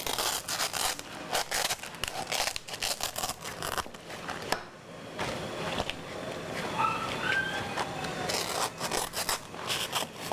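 Scissors or a blade cut through the tough stem of a banana leaf with crisp snipping and tearing bursts, irregular and close, with a brief quiet gap midway.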